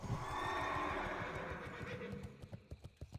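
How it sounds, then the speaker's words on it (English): A horse in World of Warcraft whinnies loudly on being mounted, a long neigh filling the first second or so, followed by steady clip-clop hoofbeats that grow more distinct as the horse moves off. "Now I can get on my horse and get the heck out of here."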